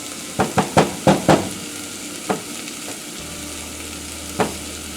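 Onions and garlic frying in a pan, a steady sizzle underneath several sharp utensil scrapes and taps in a quick cluster, then a few isolated stirs, close and alone.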